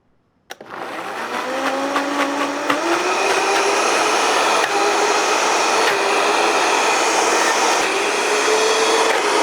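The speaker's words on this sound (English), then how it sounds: "you just need to blend this up until it's nice and smooth" A blender whirs steadily as it purées chili sauce for a Texas red chili, starting abruptly after a click and holding a loud, continuous motor drone with a slowly shifting pitch and no talking.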